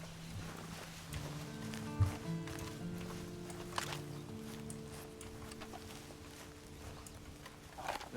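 Horse hooves clip-clop in Red Dead Redemption 2, an uneven patter of steps with a few sharper thuds, heard over a low ambient bed with faint tonal hum.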